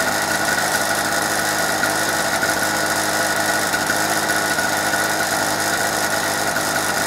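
A two-stroke generator engine, run for a test after sitting unused for two years, drones loud and close at a steady idle with a constant buzzing vibration and no other sounds.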